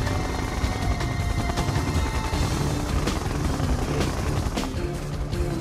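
A siege chopper helicopter in the strategy game Red Alert 2 Yuri's Revenge drones with steady, loud rotor noise, mixed with scattered battle bursts and impacts throughout.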